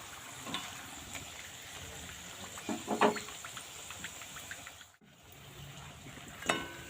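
Nimki dough pieces deep-frying in hot oil, a steady soft sizzle and bubbling hiss with occasional louder crackles and spatters, close and continuous, no talking.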